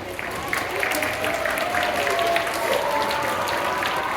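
A theatre audience at a children's school-day musical applauds steadily throughout, a dense wash of clapping with crowd noise and some voices mixed in.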